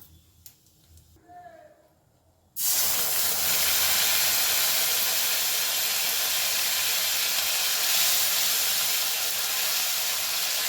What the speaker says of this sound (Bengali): গ্যাসের ফ্লেমটাকে একদম লোতে করে দিয়ে দেব আদা আর কাঁচা লঙ্কা বাটা